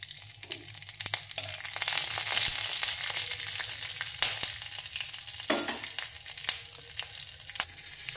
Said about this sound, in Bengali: তো কাঁচা লঙ্কাগুলো ভাজা হয়ে গেছে